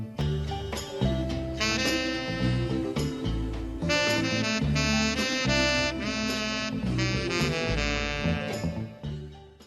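A passage of a 1967 jazz-pop tune plays with full ensemble, sustained horn or reed melody over bass and rhythmic chords, flowing continuously without voices for about ten seconds.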